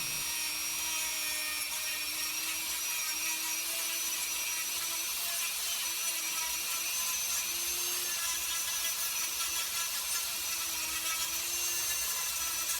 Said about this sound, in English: Just gonna grind down the rough edges.